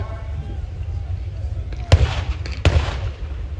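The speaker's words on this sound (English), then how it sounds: "we've got some incoming fire." Incoming fire in a World War II tank war video game: two sharp, distant-sounding bangs over a constant low rumble of battle ambience.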